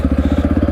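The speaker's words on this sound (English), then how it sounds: "this is an off-road dirt bike, and this is a trail" Off-road dirt bike engine on a trail: a loud, close, rapid pulsing engine note, steady and rhythmic like idling or low throttle, very brief.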